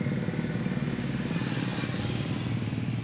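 A carbureted Yamaha Mio Soul scooter engine runs close by with a rough, uneven idle, a steady low rumble with irregular clattering pulses throughout, no voices.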